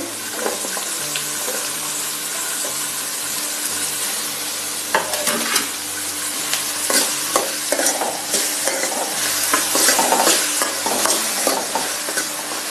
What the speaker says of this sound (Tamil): வெங்காயத்தை போட்டுருவோம். தக்காளியும் போட்டு